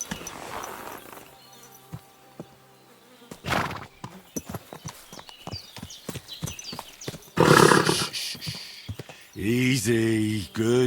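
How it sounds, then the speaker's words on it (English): Kingdom Come: Deliverance 2 video game: a horse's hooves clip-clop in a loose, uneven rhythm at close range, broken by a loud snort and a drawn-out neigh near the end, all over a quiet outdoor ambience. "Easy, good horse."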